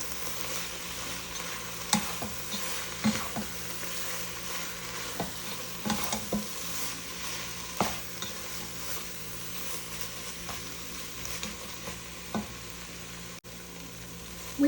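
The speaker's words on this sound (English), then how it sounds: "and 2 tablespoons of chili powder. Mix that around." Chili powder is stirred into chili frying in a pot. A spoon scrapes and taps at intervals over a constant low sizzle, close by, with no talking.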